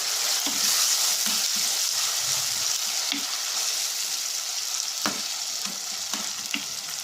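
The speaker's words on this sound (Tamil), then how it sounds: "அடுத்து தக்காளி சேர்த்துக்கலாம்." Tomatoes sizzling in oil in a pan for a village-style fish curry, a steady loud frying hiss throughout with occasional stirring scrapes and taps, no talking.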